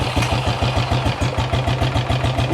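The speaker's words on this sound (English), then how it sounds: "let's turn this key on and see how this thing fires up here" An ATV engine that had just been refueled chugs in a fast, even putter right after firing up, idling low and slightly rough, close and loud, with no talk.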